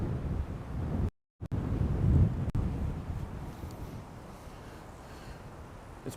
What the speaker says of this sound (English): It's pretty windy on this side.